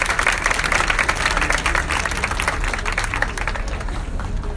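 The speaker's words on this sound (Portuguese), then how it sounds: "Palmas pra Maria Luísa." An audience at an outdoor street sofa-talk event in Salvador breaks into sustained applause, with dense clapping that stays loud throughout and tapers slightly toward the end.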